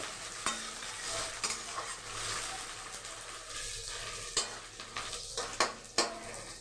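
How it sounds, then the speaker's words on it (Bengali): Onions frying in a pan, a soft constant sizzle with intermittent scrapes and clacks of a spatula stirring against the metal, several sharper knocks toward the end, quiet and close with no talk. "পেঁয়াজটা ভাজা হোক"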